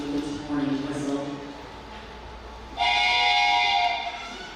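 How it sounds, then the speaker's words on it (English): A train rolls into a station, a low rumbling hum giving way to a loud sustained warning whistle that sounds for about two seconds before fading, with speech faintly present. "the train pulls into the station with its warning whistle"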